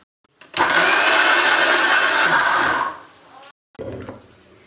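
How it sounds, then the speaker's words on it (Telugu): An electric mixer grinder runs loud and close for about two seconds, blending onion, tomato, chili powder, salt, turmeric and ginger-garlic paste into a masala, then winds down, goes quiet, and a short clatter follows. "దాన్ని ఇప్పుడు మెత్తగా గ్రైండ్ చేసుకోవాలి."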